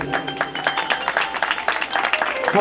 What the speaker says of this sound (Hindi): मैं और मेरी जान हैप्पी भैया के लिए जोरदार ताली बजाइएगा।